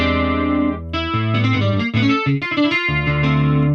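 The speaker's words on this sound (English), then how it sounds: "I'm going to choose a stereo chorus for this one" A Korg Kronos synthesizer plays a short melodic phrase with a wide, shimmering stereo chorus effect that thickens and widens each note.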